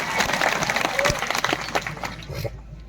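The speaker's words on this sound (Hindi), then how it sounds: "इसलिए एक बार जोरदार तालियां आप सबके लिए।" Crowd applause at a political rally in Dungarpur, Rajasthan, with a burst of clapping and some voices that thins out and fades by the end.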